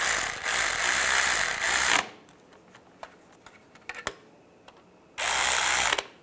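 A power tool whirs in two steady bursts of about a second or two each, with quiet clicks and handling noises between, while cross-tightening CV axle bolts on the front passenger side of a 1998-2010 Volkswagen Beetle.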